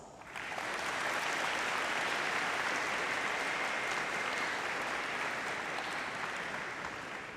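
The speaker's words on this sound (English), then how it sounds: "a round of applause" Large crowd applauding at a high school commencement ceremony as graduating seniors honour their families and friends, a dense, sustained wash of clapping from many hands that rises quickly and holds steady throughout, with no speech over it.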